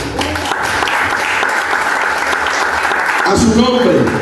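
A church congregation applauds God during an evangelist's sermon, a full, sustained burst of clapping that blends into voices and musical tones in the final second.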